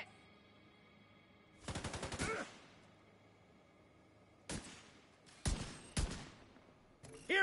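Machine-gun fire from a video game crackles in several short, sharp bursts, separated by quiet gaps. The first burst is longer and the later ones are brief.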